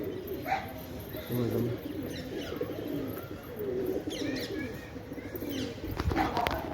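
Pigeons being flown in training coo softly and repeatedly with bursts of fluttering wings, under ongoing talk and outdoor background noise.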